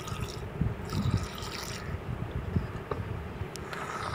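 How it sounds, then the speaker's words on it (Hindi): Water is poured onto cut petha pumpkin in a cooking pot, making a soft continuous splashing trickle with scattered drips, fairly quiet and close. "ये जो पेठा है इसको पानी डाल लेना है।"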